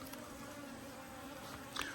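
Honeybees hum in a dense, steady drone inside an open hive box, close and continuous, with one bee buzzing briefly louder near the end.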